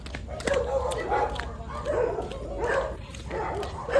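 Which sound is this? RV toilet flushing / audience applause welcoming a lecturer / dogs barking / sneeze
dogs barking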